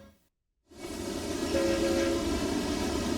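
A passenger train runs steadily after a brief silent gap, its rolling rumble filling the scene with a sustained horn-like tone sounding in the middle; no talking.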